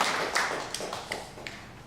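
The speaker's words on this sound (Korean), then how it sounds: "우리 감사와 찬양과 존귀의 박수를 한번 올려드릴게요" Church congregation applauding during a Korean worship service at Yeongtong Onnuri Church: a steady, diffuse wash of clapping with a few sharper claps standing out, moderately quiet, slowly fading toward the end.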